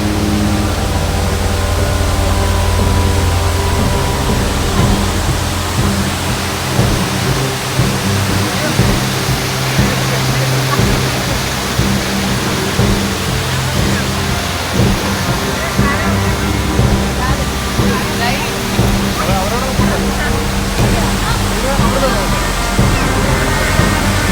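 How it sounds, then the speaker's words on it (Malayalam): Steady, dense rushing water roar from Pampanal Waterfall in Idukki, Kerala, fills the clip, close by, constant and loud with a voice faintly underneath. "ഞാൻ ആദ്യത്തെ ഘട്ടത്തിലെ വെള്ളച്ചാട്ടത്തിലേക്ക് വീണ്ടും എത്തിച്ചേരുകയാണ്"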